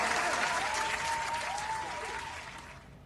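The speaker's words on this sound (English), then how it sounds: "A round of applause for that." A crowd gives a steady round of dense applause, a continuous wash of clapping that gradually thins and softens over three seconds, with a faint tonal whine running beneath it.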